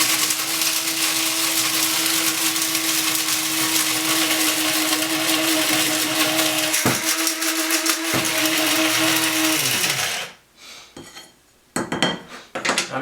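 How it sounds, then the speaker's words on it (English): A blender purees dried garlic into powder, a loud, steady whirring grind with rattling pieces for about ten seconds before the motor winds down. Clattering follows as the jar is handled. "so I'll puree this up"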